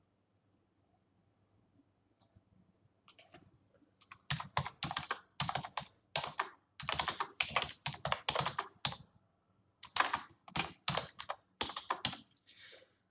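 Typing on a computer keyboard in a quiet room, dense bursts of key clicks in uneven runs with short pauses between, close and fairly clear, no voices.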